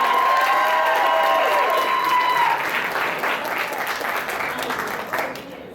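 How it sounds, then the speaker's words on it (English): An audience claps and cheers at an anime convention game show, a loud sustained round of applause that fades toward the end, with some voices over it. "Let's give her another big round of applause"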